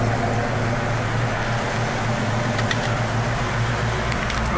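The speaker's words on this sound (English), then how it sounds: "Here, the blower motor's working." Blower motor running inside a 1967 Mustang GT 390 four-speed, a steady, loud broadband whir with a low rumble underneath, continuous and close with no talking.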